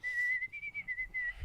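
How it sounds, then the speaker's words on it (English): A man whistles a short tune for a Telstra advert, several clear, bright phrases of pitched notes in a steady rhythm, near and alone with no talk. "that whistling Telstra bloke right now"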